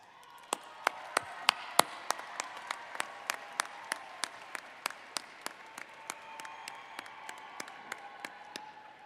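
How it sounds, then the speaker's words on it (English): Graduation audience at a University of Colorado ceremony applauding, heard as a sparse, fairly distant patter of claps with sharp individual hand claps standing out in a steady rhythm throughout. "find your supporters in the audience or think about them and give them a round of applause"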